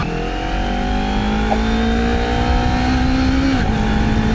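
A Honda CBR250RR sport motorcycle engine in Sport Plus mode revs up and holds a rising, raspy whine, then drops briefly near the end as it shifts, with no talking.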